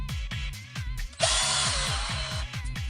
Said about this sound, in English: And then you got a drill, get off a torque setting